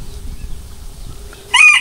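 A chicken gives a single short, sharp cluck near the end, after a stretch of low background hum and quiet.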